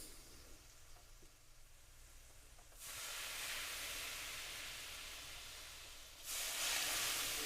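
Two kilos of sliced onions for fish biryani hiss and sizzle in hot oil, a steady broad frying noise that grows louder in two steps as the onions go in, with no talking.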